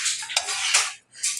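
Chole curry with masala is stirred in a pan, a steady scraping of a utensil against the metal that stops briefly near the end and then resumes, close and fairly loud.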